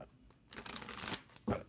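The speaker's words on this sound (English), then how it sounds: "Let's shuffle these up a little bit more." A deck of cards shuffled for a Celtic cross tarot reading, giving a close, soft riffling rustle that builds and then ends with a sharper snap of cards.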